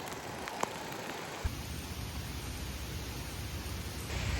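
Heavy rain pouring outdoors near a tree, a steady dense hiss that thickens partway through, with a few sharp drips or taps standing out.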